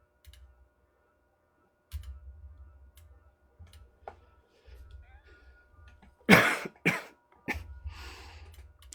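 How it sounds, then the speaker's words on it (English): A person coughs a few times, with harsh bursts close together amid quiet low rumbles and faint ticking in a room. "I don't know why I'm coughing so much recently"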